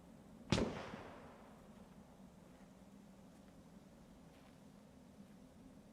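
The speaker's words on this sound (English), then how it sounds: "Synchronized nades." A grenade explosion in the video game Escape From Tarkov, a single loud sharp blast that decays into a lingering rumble, followed by quieter ambient game noise and a second burst cut off at the end.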